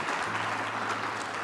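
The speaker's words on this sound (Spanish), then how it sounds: "caluroso aplauso a Francisco Rodríguez" A room full of people applauds warmly for Francisco Rodríguez, a steady dense clapping that fills the space evenly throughout.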